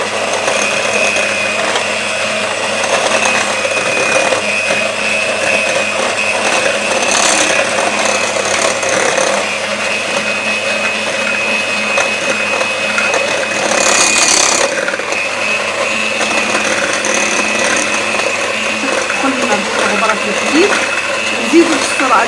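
An electric mixer whips chantilly cream and chocolate mousse at low speed, a steady, continuous whirring hum with a faint mechanical buzz that holds evenly throughout.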